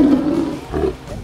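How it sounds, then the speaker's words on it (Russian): A tiger near Vladivostok gives a short, close, throaty roar that rises and falls in two heavy bursts. "Где-то тут живет тигр."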